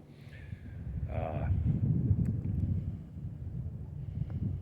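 Low rumbling wind buffets the microphone steadily on Lariat Trail up Lookout Mountain outside Golden, Colorado, with a brief higher whistle-like sound early on.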